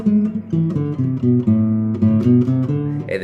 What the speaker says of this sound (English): And then I'm just going to run the Aeolian mode here.